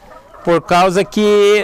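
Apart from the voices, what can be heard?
rooster crowing on a free-range chicken farm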